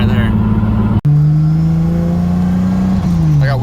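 A drift car's engine drones loudly and steadily from inside the cabin, with one brief cut around a shift before the pitch climbs again and then sags as the car cruises through town.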